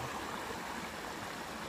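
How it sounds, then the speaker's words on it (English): Small waterfalls in a restored urban stream rush and burble in a soft, continuous wash, heard faintly from a short distance with no voices. "it does some narrowing and then create this little waterfalls here"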